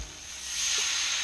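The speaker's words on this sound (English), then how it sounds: "We're going to add a half a cup of the white wine." White wine hitting a hot pan of capers for chicken piccata gives a steady bright sizzle and hiss that swells louder over about a second, with no talking.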